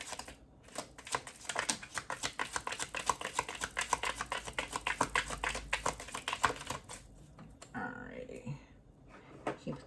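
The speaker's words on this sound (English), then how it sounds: "Do one last shuffle and see what else comes out." Tarot cards are shuffled in a rapid, rhythmic riffle of papery flicks up close, ending with a few softer shuffling sounds.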